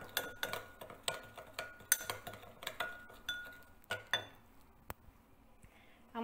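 Lemon juice and black pepper whisked together in a small bowl, a quick series of bright metallic clinks and taps of a utensil against the dish, irregular and close, with no speech.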